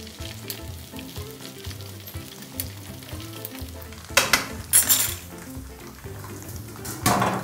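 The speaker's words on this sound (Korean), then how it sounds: "욕심이 많아서 너무 많이 튀기네" Battered pork for guo bao rou deep-frying in hot oil, a steady crackling sizzle with occasional louder bursts and the clatter of a utensil against a pot.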